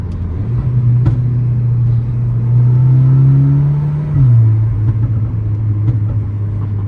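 A modified Audi S3 with a straight-pipe exhaust holds a steady, loud, low droning rumble that rises slightly in pitch mid-way and then drops back, heard from inside the car.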